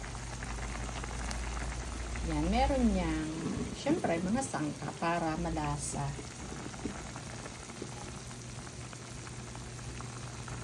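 Adobo simmers in a pot, a faint, steady bubbling under a person speaking Filipino for much of the time.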